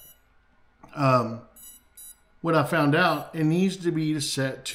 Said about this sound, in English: I'm sorry about the beeping sound